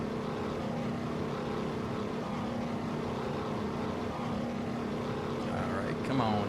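Steady, droning propeller-engine hum from a P-47D Razorback warbird in a flight simulator, continuous and even in level throughout, with a faint rising whine near the end.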